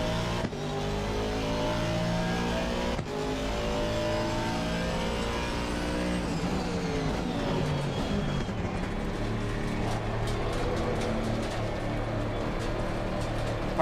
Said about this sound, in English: I think the sound of the engine is better.